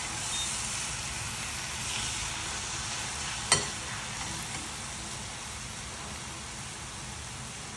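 Coconut barfi mixture cooks in a pan on the stove with a steady, even sizzling hiss, broken once midway by a single sharp knock of the spoon against the pan.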